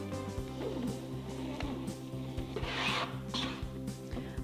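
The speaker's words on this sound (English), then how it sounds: "as you move your squeegee down the graphic, you want to pull the backer off at the same time." A squeegee rubs down a display graphic as the backer is peeled off, a close, steady scraping and rasping with soft rhythmic strokes and a brief brighter peeling swish.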